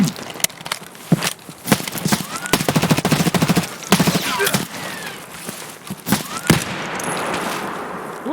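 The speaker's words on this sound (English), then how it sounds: "Who else is shooting at me?" Rapid bursts of automatic gunfire in a shooting video game, loud and close, with sharp repeated shots in clusters and short pauses between volleys.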